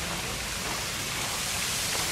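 A waterfall at a viewpoint on Tenerife pours in a constant, hissing roar of falling water, broad and even with no voices.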